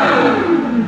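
A Novitec-tuned Ferrari 812 N-Largo revs hard, its loud exhaust roaring close and steady with rising and falling pitch, no voices over it.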